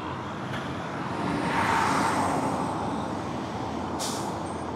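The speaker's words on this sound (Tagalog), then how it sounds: "Ang bilis naman na itong truck." A fast truck passes on a road, its engine roar swelling to a peak at mid-clip and then easing away, with a brief sharp hiss near the end.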